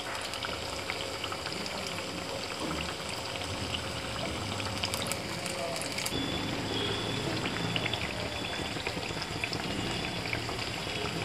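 Potato slices deep fry in hot oil with a continuous bubbling sizzle, steady and close, with no talking over it.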